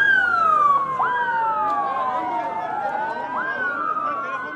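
Several ambulance and police sirens wail and overlap at a bombing site under a bridge by a train station in Ankara, loud, close and sustained, their pitches sweeping up and down.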